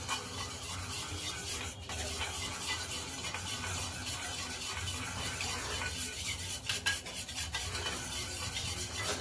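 Dahi khatai mixed with sugar in a bowl, a steady close scraping and swishing of a spoon stirring the thick yogurt mixture, faint but continuous.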